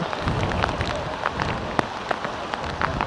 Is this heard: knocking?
no